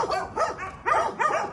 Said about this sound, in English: 4 dogs in that backyard. Barking.